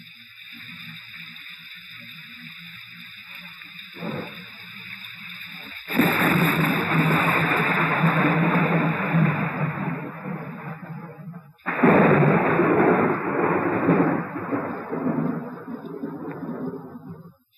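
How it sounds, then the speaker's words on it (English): Rain falls in New York City as a steady, broad hiss that starts abruptly, holds for several seconds, drops away briefly, then returns just as strongly. "there's rain."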